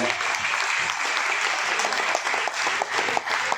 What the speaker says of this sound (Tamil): இந்த கைத்தட்ட பார்த்தீங்க